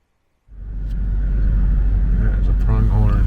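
A truck engine starts up and runs steadily at close range in open country near a South Dakota campground, a loud low rumble that holds for the rest of the clip, with a voice briefly heard near the end.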